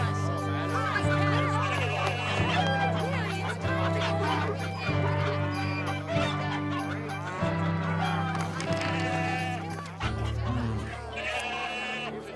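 Goats bleat and chickens cluck among other animal calls in a crowded temple market, a busy, layered mix over steady background music.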